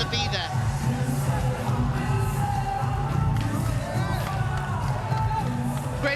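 A crowd cheers at a professional volleyball match between Kolkata Thunderbolts and Delhi Toofans, a continuous roar of arena cheering and babble rising slightly midway, while a commentator talks over it.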